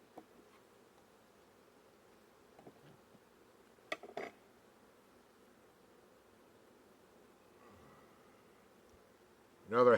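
Honey bees crawl over a heavy hive frame during a late-July hive inspection, giving a faint, steady low hum broken by a few brief knocks and clatters, with a louder rustle at the end.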